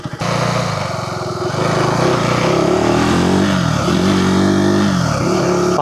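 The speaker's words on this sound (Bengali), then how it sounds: "প্রথমেই অ্যাডভেঞ্চার 350-র একটা টেস্ট রাইড নিয়ে দেখবো বাইরের এই ট্র্যাক দিয়ে।" A KTM 350 Adventure motorcycle ridden on an outdoor test track, its engine droning loud and close with rising and falling revs as the bike accelerates, with no talk over it.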